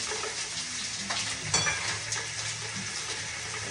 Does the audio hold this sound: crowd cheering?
no